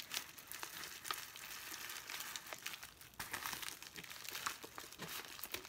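Packaging for an Annie's Farmhouse Style Kit Club craft kit crinkles and rustles close up as it is opened, with irregular crackling bursts and small tearing sounds throughout.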